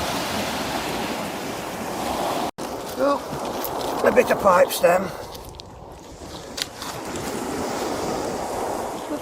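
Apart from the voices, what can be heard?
waves on the River Thames from a passing boat's wake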